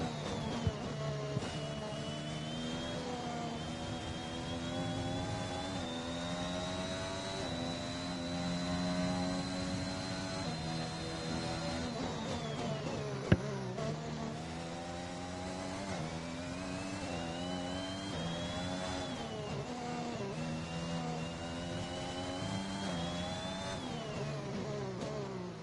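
Racing car engine in a racing video game on a hot qualifying lap at Australia, revving high and steady with rising and falling pitch as it shifts through the turns 9-10 chicane, loud and continuous with no talk.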